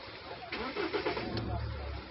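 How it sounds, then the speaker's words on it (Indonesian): A Mahindra Scorpio 4x4 single-cab pickup engine cranks briefly and then catches into a low rumble, heard close and somewhat muffled. "Oke, coba kita tes start mobilnya."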